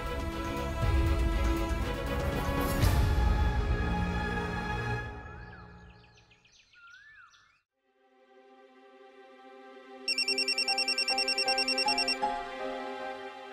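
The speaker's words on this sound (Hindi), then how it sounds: "माँ भी फोन नहीं उठा रही" A telephone rings with a repeating electronic ringtone while a call goes unanswered, in a Hindi TV drama scene. The tone pulses loudly and evenly near the end, following a stretch of dramatic music that fades out.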